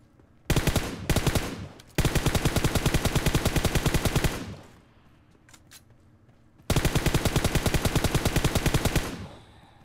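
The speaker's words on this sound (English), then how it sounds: "I heard some shots from a distance" Automatic gunfire in PUBG Mobile rattles out in rapid bursts: two short volleys, then a long sustained stream, a lull, and another long burst, sharp and prominent with no talking.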